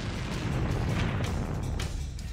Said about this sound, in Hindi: एक बार फिर देखिए कि मिसाइल के हमले में क्या धमाका हुआ